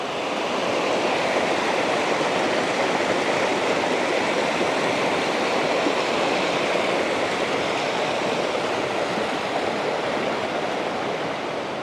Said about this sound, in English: You can hear some water rushing.